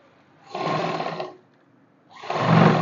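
Two short bursts of a sewing machine stitching a simple kurti, each whirring run lasting under a second with a brief pause between, close and clear with no talking.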